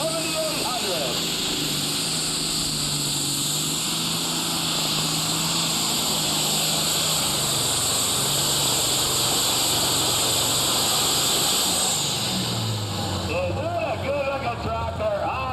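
A John Deere 7800 tractor at a Super Stock/Pro Stock tractor pull at a county fair roars with a loud, sustained engine drone across the run, while an announcer talks over it.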